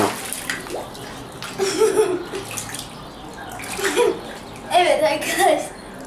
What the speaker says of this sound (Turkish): su savaşları başladı